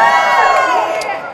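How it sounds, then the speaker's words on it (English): A crowd at an open stage show lets out a short burst of cheering and whooping, loud and close, fading slightly toward the end. "if you've had a great year, big cheer, right?"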